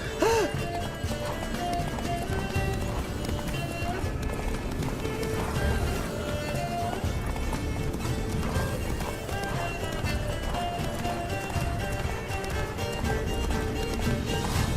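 Geralt's horse Roach gallops in The Witcher 3, steady rhythmic hoofbeats pounding throughout at close range, with a whinny near the start and game music and ambience underneath.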